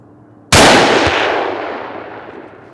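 A single loud rifle shot cracks out while deer hunting, sharp and close, with its boom rolling and fading slowly over the next couple of seconds.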